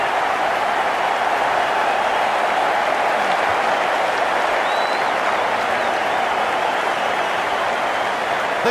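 A stadium crowd in a Cricket 19 video game match roars with dense, continuous applause and cheering after a six is struck, loud and steady throughout with no break.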